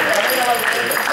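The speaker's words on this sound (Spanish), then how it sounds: "Un fuerte aplauso para la gallineta." Brief, dense burst of audience applause at a Spanish-speaking award gathering, steady and loud for about a second, with voices mixed into the crowd noise.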